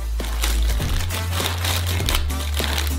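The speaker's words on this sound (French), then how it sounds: "On ouvre le sucre." Paper crinkling and tearing close up as a sugar packet is opened, with a low steady hum running underneath throughout.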